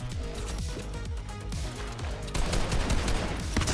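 Rapid bursts of gunfire from weapons in the Fortnite video game, including an assault rifle and a Thunder weapon, crackle loudly and continuously across a busy firefight with dense overlapping shots.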